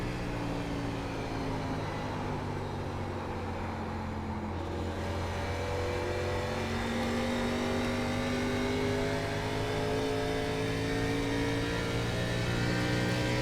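A NASCAR truck engine in the iRacing game drones steadily and loudly, its pitch sliding up and down as the throttle is worked through a corner, with a faint rise at the end and no talking.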